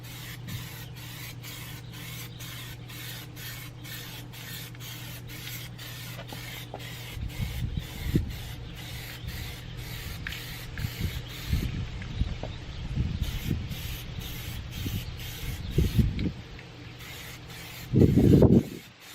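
Plasti Dip aerosol sprays onto a car wheel outdoors in a steady, continuous hiss with short rustly pulses and handling noise, no speech.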